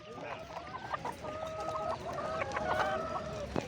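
Several chickens cluck and squawk close by in a busy, overlapping chorus at a poultry market, with a rooster-like call mixed in.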